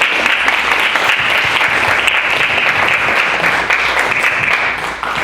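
A sustained round of applause from an audience at a Castro Valley Democratic Club endorsement meeting, steady dense clapping at full volume throughout.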